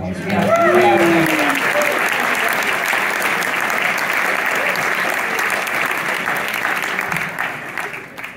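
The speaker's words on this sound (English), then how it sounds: "Cameron, really a remarkable puzzle and worth another round of applause." Crowd at a crossword puzzle tournament final gives a full, loud round of applause with a few cheers at the start, steady clapping that slowly fades out.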